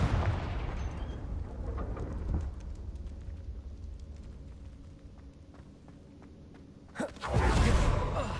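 An explosive spell going off in the video game Hogwarts Legacy: one sudden loud burst near the end, rising out of a low rumbling battle ambience with scattered faint crackles.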